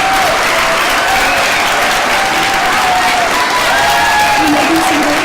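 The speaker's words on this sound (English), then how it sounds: "So give them one more round of applause." An audience at a graduation ceremony gives loud, sustained applause, a dense wash of clapping that holds steady from start to finish with a few faint voices mixed in.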